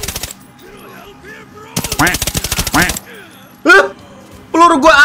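Rapid M4A1 rifle fire comes in short bursts in a shooting video game, loud and close, and several voices talk and exclaim between and over the shots.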